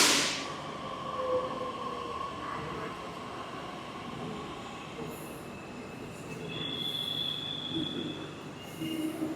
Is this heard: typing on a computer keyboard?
no